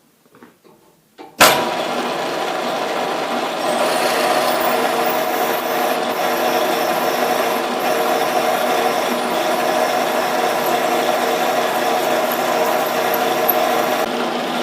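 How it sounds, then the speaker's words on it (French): A 16 mm milling cutter counterbores a workpiece, starting abruptly after a few faint knocks and then holding a loud, steady grinding whir with a metallic hum throughout, without speech. "Ensuite, je vais lamer donc avec une fraise de 16"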